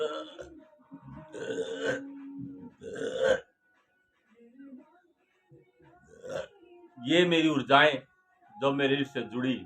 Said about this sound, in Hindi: और मुझे अटकार आई और उबासी भी आई।